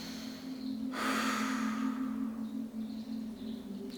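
Slow, audible breathing during a frog stretch: a soft sharp inhale-like gasp followed by a long breathy exhale, close and quiet over a faint steady hum.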